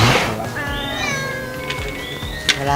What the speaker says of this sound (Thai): บันทึกไว้ว่าชื่อแมว สุภลักษณ์หรือทองแดง